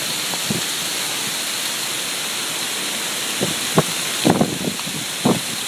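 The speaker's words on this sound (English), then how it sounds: "here we are in a hailstorm" Hail pelts down in a storm on the mountain top at Bly Gap along the Appalachian Trail, a dense continuous hiss with scattered sharper close impacts from someone sheltering beneath an oak tree.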